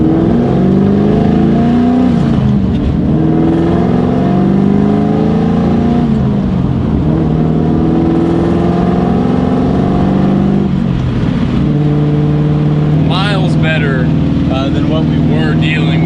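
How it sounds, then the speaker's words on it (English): A Ford Mustang GT fitted with an IAC restrictor plate revs loud and close, its engine note climbing and then dropping sharply at each gear shift, with a voice faintly under it. "now watch how much faster RPM drops on the shift"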